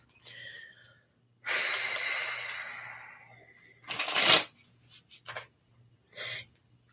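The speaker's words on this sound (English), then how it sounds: "I'm shuffling the Kabbalistic Tree of Life Oracle." Oracle cards riffle and shuffle in several quick bursts, close and crisp, with soft breaths between them in an otherwise quiet room.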